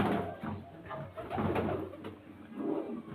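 Pigeons cooing up close, soft throaty low coos repeating in short phrases among birds kept for sale, with no talk over them.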